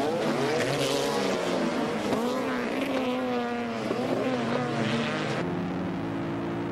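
GT300 class Porsche race cars battle closely at Fuji circuit in the 1996 All Japan GT Championship, their engines wailing continuously with pitch sweeping up and down as several cars pass together.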